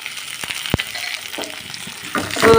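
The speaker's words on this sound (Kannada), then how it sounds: "ಅವನಿಷ್ಟು ಒಗ್ಗರಣೆ ಹಾಕೊಂಡ್ಬಿಡ್ತೀನಿ ರೀ" Mustard seeds and spices tempering in hot oil for churumuri make a crackling, spattering sizzle close by. A louder burst of frying comes near the end.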